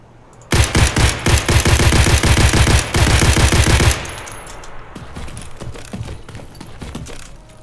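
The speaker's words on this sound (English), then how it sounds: "Let's see how it does hip firing with the recoil now." An SKS rifle hip-fired in the video game Escape from Tarkov, a loud close string of about twenty evenly paced shots lasting a few seconds, then a fading echo and faint rattling handling noises.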